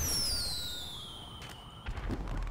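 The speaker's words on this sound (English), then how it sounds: "Some fireworks." Fireworks in GTA Online, heard as a rising whistle that falls in pitch, then sharp cracking bursts and a thump, fairly close and loud, with no talk over them.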